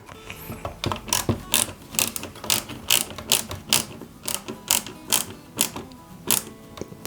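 A small screw is driven into an Eaglemoss Ghostbusters Ecto-1 model, a close series of sharp ratcheting clicks in an uneven rhythm, with no voices.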